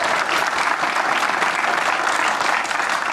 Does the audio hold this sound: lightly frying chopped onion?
no